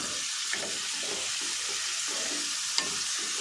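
Onion and green chillies fry in a pan for instant pasta, giving a steady bright sizzle close up with soft stirring scrapes and an occasional sharp tick, and no talking.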